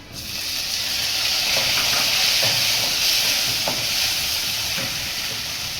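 Chopped potatoes fry in a pan as tomatoes are tipped in, and a loud, even hiss of hot oil swells at the start and then holds steady, close up, with a few faint stirring clicks.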